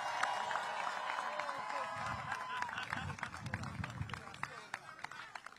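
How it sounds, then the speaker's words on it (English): A crowd claps and cheers outdoors at the Jersey City Peacock Parade, a steady mix of scattered hand claps and crowd noise, with someone talking loudly over it. "Give yourselves a round of applause"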